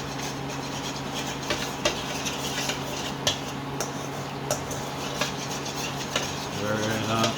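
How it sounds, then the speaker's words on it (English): General Tso's sauce thickened with cornstarch gets stirred in a pot, soft scraping with periodic sharp ticks of a utensil against the cookware, over a steady background hum. "Stir it up"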